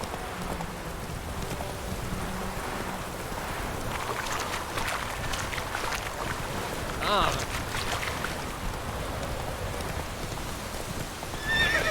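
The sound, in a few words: Geralt's horse Roach neighing, from video game The Witcher 3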